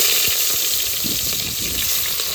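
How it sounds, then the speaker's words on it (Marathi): Animal fat and ghee sizzle steadily in a pan at an outdoor farm mutton cookout, a continuous close, bright crackling hiss with occasional soft stirring bumps and no voices. "आपण याच्यामध्ये टाकलेलं तूप आणि तुपामध्ये मिक्स करतोय आपण चरबी"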